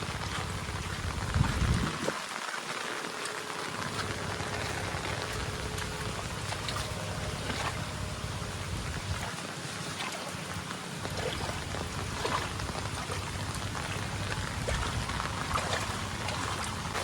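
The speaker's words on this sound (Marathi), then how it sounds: "या पाण्यातून आता जायचं" Water in a flooded farm field swishes and splashes in a continuous wash as someone wades through it, with a few deeper low sloshes near the start.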